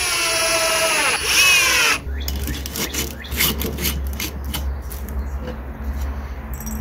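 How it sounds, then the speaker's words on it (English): A drill whines briefly, then gives way to harsh rasping and grinding as screws bite into wood while a carpenter bee trap is built, close and rough. "Punch a couple little holes and drill some screws."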